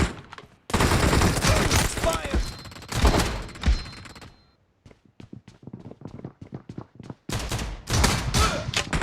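Dense bursts of video game gunfire, rapid volleys with brief gaps and scattered single shots, loud and close, with occasional voices mixed in.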